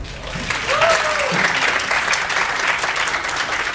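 Audience applause at an entrepreneurs' forum, sustained crowd clapping at moderate loudness with a brief voice-like whistle or call rising over it early on.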